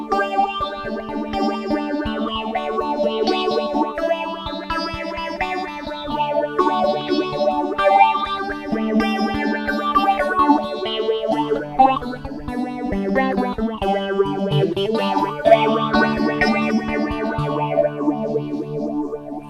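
A 12-string guitar runs through a duo phase effect pedal, with chiming strummed and picked chords that keep a steady, sweeping phased shimmer across the whole passage, loud and alone.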